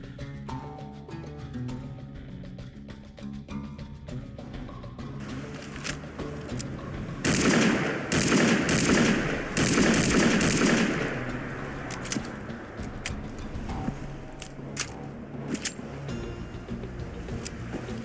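Rifle fire from the video game Fallout 4, a burst of rapid sharp shots in the middle over continuous game music, with scattered single reports before and after.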